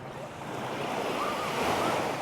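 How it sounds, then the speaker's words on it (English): Ocean surf rolls steadily onto a white sand beach on Koh Samet, Thailand, a continuous soft wash of waves with light wind, no voices. "this is a really nice beach"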